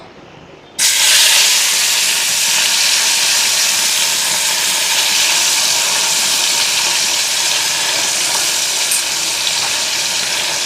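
Spices and onion hit hot oil in a wok with a sudden loud sizzle that settles into a steady, dense frying hiss, close and continuous with no voices.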